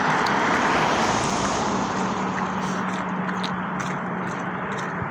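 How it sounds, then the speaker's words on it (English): An airplane passing over Wood Lake near Kelowna Airport in BC, a steady broad roar holding loud and even for several seconds with road traffic in the background, no talking. "Here's another plane flying."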